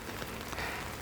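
Steady rain falls throughout a short stretch of an autumn morning walk with pet dogs, a dense even patter hissing close around without any voices.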